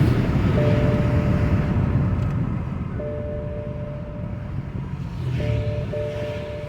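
A BMW 550, being diagnosed for lost boost and misfires, accelerates hard under deep throttle. A steady low engine drone with a faint whine is heard from inside the car, swelling slightly near the end, with no talking.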